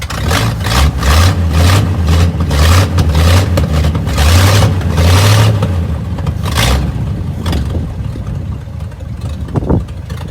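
A 1952 Ford F1 pickup's survivor flathead engine runs steadily at idle, a loud, close, low rumble with a constant throb that stays even throughout, with no speech over it.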